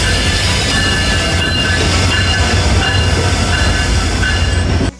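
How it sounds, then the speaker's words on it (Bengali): Padma Express passenger train from Rajshahi to Dhaka pulling into Ibrahimabad railway station, a loud, close, continuous rumble of wagons and wheels on rails that cuts off abruptly at the end. "রাজশাহী থেকে ছেড়ে আসা ঢাকাগামী পদ্মা এক্সপ্রেস ট্রেনটি ইব্রাহিমাবাদ রেলওয়ে স্টেশনে প্রবেশ করলো"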